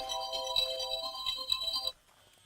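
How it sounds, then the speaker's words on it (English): Phone timer alarm ringing, a repeating electronic melodic tone that plays steadily for about two seconds and then cuts off abruptly, with quiet room tone afterward. "That's my timer."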